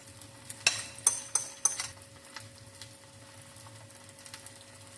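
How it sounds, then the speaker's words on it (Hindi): Egg frying in a pan beside shami kebabs, a soft steady sizzle with a few sharp utensil clinks and scrapes near the start, no one talking. "कबाब को हम साइड पे कर देते हैं और साथ में हम अंडे को फ्राई कर लेते हैं।"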